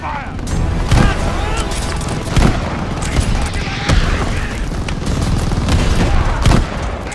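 Constant battlefield gunfire and booming blasts in Call of Duty: Vanguard during the El Alamein desert battle, with dense overlapping shots and periodic heavy thuds and shouted voices in the mix.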